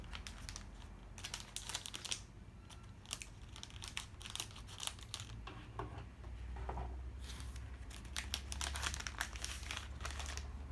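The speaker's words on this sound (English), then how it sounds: "if you have scissors, you can just clip it and open it that way" A plastic package is cut open with scissors, producing dense, close crinkling and crackling in irregular bursts with no talk.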